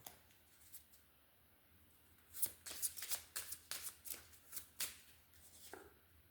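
Tarot cards being shuffled by hand, a quiet stretch followed by a rapid series of crisp riffling and slapping bursts, close and soft, with no talking over it.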